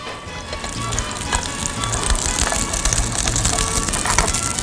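A pachola from Guerrero cooks in a pan, giving a loud, close, crackling sizzle with steady popping and spitting throughout and no talk.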